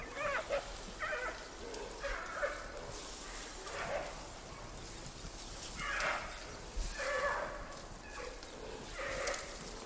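Wild giant pandas give repeated rough, bleating growls and yelps in bursts roughly every second or two, moderately close against a steady forest background.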